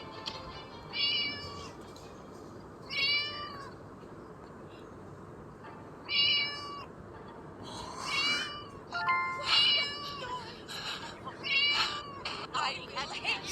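A kitten in the Scary Teacher video game meows repeatedly in short, high, clear calls spaced a second or two apart, over a faint background hum with some voice-like sound mixed in.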